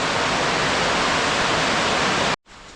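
Heavy rain pours down in the forest near the Kinabatangan River in Sabah, a dense, loud, even hiss that cuts off abruptly near the end, leaving a much quieter background.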